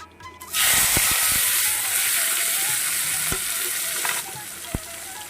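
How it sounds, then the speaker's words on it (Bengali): Chopped onion, tomato and four green chillies hit hot oil with black cumin seeds in a pan and burst into a loud, steady sizzle, with a few sharp clinks and scrapes of stirring throughout. "এটাকে একটু ভেজে নেব"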